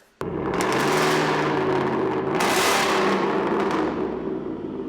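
A loud, raspy Coyote V8 exhaust on a 750HP Shelby F-150 truck revs up sharply, crackles and surges in two bursts, then settles into a rough, rumbling idle.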